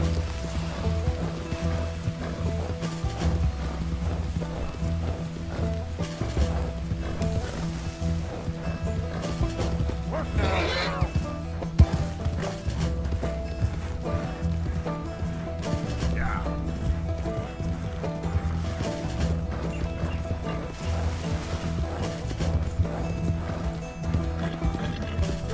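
Horse hooves clip-clop steadily in Red Dead Redemption 2, a continuous trotting rhythm at moderate level, mixed with other game sounds and a voice.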